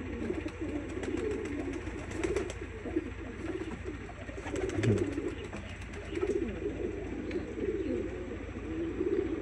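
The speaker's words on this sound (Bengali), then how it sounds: "এই বুনো কবুতর কই থেকে যেন আসছে" Wild pigeons coo in low, rolling phrases that come and go over a steady background hum, with a few faint clicks.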